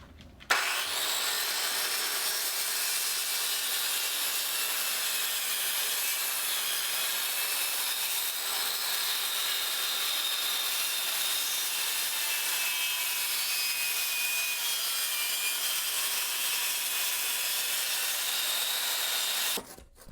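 A circular saw cutting through two stacked pieces of wood for a miter saw stand, a loud, continuous high-pitched whine and rasp lasting nearly twenty seconds before stopping abruptly, with no talking.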